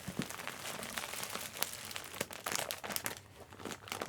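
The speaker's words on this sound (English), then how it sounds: "It was just in a clear plastic bag." A clear plastic bag package crinkles and crackles while being opened, in dense irregular bursts close up, continuing for several seconds without talk.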